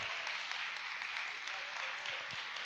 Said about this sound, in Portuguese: aplauda o Senhor nessa noite, mas aplauda forte.